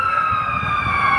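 Fire truck sirens wail continuously in Manila, a steady sustained tone held loud and close for the whole moment with low traffic rumble underneath.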